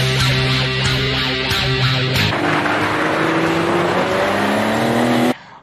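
A modified Chevrolet Opala roars through a burnout outside a car event, engine held at loud high revs with rising pitch and tire noise, then cutting off abruptly near the end.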